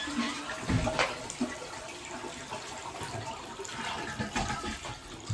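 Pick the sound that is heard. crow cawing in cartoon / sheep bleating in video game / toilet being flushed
toilet being flushed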